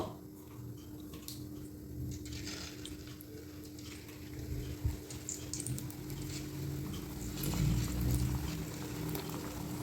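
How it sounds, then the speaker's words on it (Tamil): Kozhukattai dumplings bubble and fry in hot oil, a steady low patter and fizz with occasional pops, moderately quiet and close, growing slightly busier toward the end. "இனிமேல் இந்த கொழுக்கட்டை எல்லாத்தையும் இதில் போட்டு பொறிச்சுக்குவோம்"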